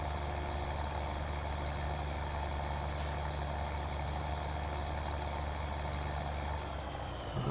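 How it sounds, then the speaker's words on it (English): A tractor engine in Farming Simulator 17 drones low and steady under a heavy load, a constant loud rumble throughout with no speech. "God, this is a heavy brute of a thing, the tractor's really working on it"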